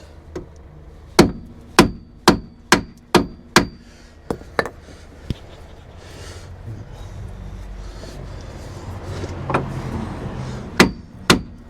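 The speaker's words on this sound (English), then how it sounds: "just a swift tap there and it'll pop it down and we can undo it" Hammer striking a track rod end on a car, a run of about eight sharp metallic taps in quick rhythm, then scattered knocks and a couple more loud strikes, close and without talk.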